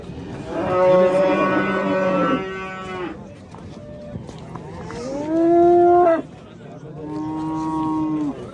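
Cattle moo loudly nearby at a livestock market in Angren: one long, deep low followed by two more drawn-out calls, with quieter background noise between them.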